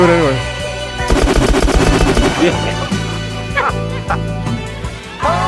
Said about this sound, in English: I'm tempted to put like some gunshots in here